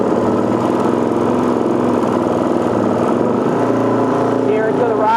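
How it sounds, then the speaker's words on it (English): A four-stroke engine, Gen II, runs loud and steady with a dense harmonic drone while its carburetor is being tuned, the throttle easing up slightly near the end; voices are faintly present. "now we'll slowly roll it up and listen to the engine"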